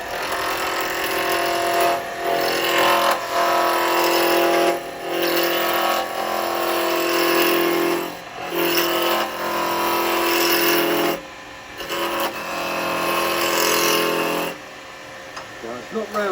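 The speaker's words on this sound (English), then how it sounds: "I'm just going to use one of my big roughing gouges" A wood lathe spins a blank down to a cylinder while a big roughing gouge bites in, giving a loud, rough cutting roar in bursts broken by short pauses as the tool is lifted.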